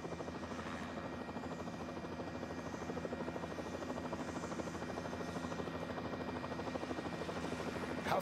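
Helicopter hovering above the Wengen men's downhill ski course in 2019, a steady close rotor thrum with a fine regular beat, continuous and fairly loud, alone without talk.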